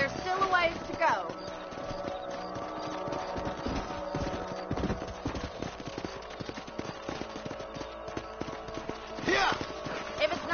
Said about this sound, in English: Let's get back on the horses.